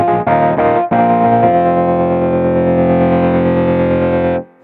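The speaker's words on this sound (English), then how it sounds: "amp simulator" Heavily distorted amp-simulator tones on a Roland RD-800 digital stage piano: a few choppy chords, then one long sustained buzzing chord that rings loud before cutting off.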